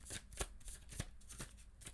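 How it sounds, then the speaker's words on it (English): Tarot cards being shuffled by hand, with a few quick riffling bursts in a loose rhythm, close and faint, with no talking. "Actually, let's shuffle one more time."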